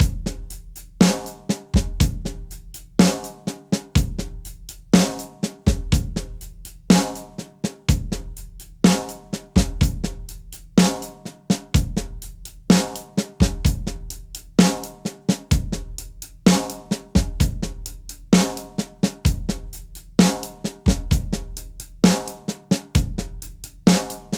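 Paradiddle groove in 13/16 played on a drum kit with two bass drums, crisp hits in a tight repeating pattern, close and loud with no talking.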